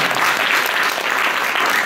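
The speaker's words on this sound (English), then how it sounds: "Round of applause." Audience applause at a stand-up and improv comedy show, a continuous wash of many hands clapping at close range, even and sustained throughout.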